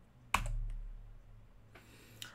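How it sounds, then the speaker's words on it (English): A computer keyboard key pressed at a quiet desk: one sharp close click, a softer second tap, and another click near the end, otherwise near silence. "Now, if I just hit delete on my keyboard,"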